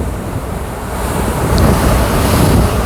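Strong wind buffets the microphone in a continuous loud roar, rising slightly toward the end, with a surf-like rush and no voices.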